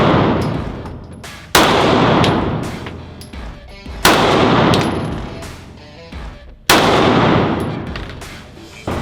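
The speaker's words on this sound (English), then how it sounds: "with this Glock, I'm gonna aim for all headshots" Glock pistol shots ring out at a shooting range: loud, sharp single reports spaced a second or two apart, each followed by a long echoing decay.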